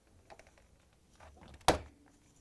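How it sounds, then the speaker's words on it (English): A Bosch dishwasher door swings shut with one sharp, close thunk after a few soft handling bumps and rattles in a quiet room. "At this point, we're going to close the door."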